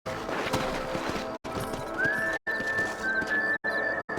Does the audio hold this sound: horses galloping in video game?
yes